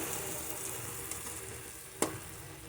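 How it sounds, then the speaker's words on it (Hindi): Okra fries with red chilli in a pan, a steady soft sizzle broken by a single spoon tap or scrape against the pan near the end. "और आराम से चम्मच हिलाएंगे ताकि हमारी भिंडी टूटे ना।"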